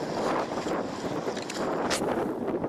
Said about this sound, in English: And now we're getting the wind.